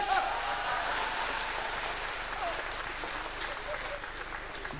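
A comedy-show audience breaks into steady applause, a continuous wash of many hands clapping at moderate level that gradually eases, with a voice briefly audible at the start.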